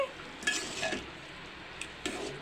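Thick tamarind paste for pulihora simmering in oil, with a soft steady bubbling and light sizzle close by, plus a few brief clinks of a spoon or ladle against the pan.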